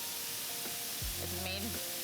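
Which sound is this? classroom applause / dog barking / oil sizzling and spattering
oil sizzling and spattering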